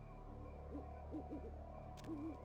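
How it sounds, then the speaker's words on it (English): Owls hoot in a night scene of Vampire: The Masquerade - Bloodlines, a series of soft low hoots, some short and paired, one longer and wavering, far off over a steady ambient drone. "we're hearing creepy owls"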